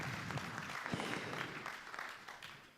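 Church congregation applauding during a worship service, a faint, distant wash of clapping throughout, fairly steady and soft.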